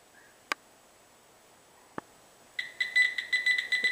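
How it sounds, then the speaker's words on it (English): Metal detector pinpointer switching on, two sharp clicks followed by a rapid run of high electronic beeps, close and fairly quiet in an otherwise still room. "when you push your button, it beeps twice to tell you it's on"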